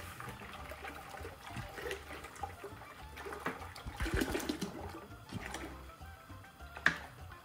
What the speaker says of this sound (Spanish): Agrego toda la leche.